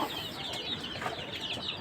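Chickens on a farm at night, soft clucking and murmuring from the roosting flock over a steady hiss of night background, faint and continuous.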